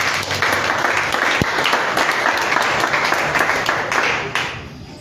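A church congregation at a Yaoundé sermon breaks into sustained, dense applause that fills the whole stretch at steady loudness, a broad wash of many hands clapping together before easing off near the end.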